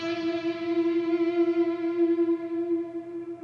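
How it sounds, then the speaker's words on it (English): Atmospheric lead electric guitar tone soaked in reverb and delay, a single smooth sustained note ringing clearly and slowly fading over a few seconds. "This is a very atmospheric lead tone with a lot of reverb, lots of delay, and it sounds like this."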